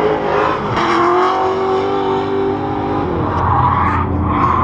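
BMW E36 with an LS V8 swap, drifting at a pro-am tandem event: a loud, steady engine roar held near the limit, with a rising pitch and tire noise layered in, close and continuous throughout.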